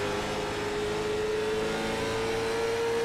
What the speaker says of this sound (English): He picks up the throttle.